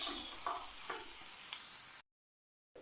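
A spoon scrapes and stirs a sizzling chicken filling in a pan, with a few distinct strokes over steady frying noise before the sound cuts out abruptly.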